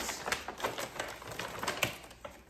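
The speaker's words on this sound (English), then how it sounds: "I think I'm going to tape them shut" Sticky tape crackles and rasps in a quick series of short bursts as it is pulled off the roll to seal items shut, close by and fairly quiet.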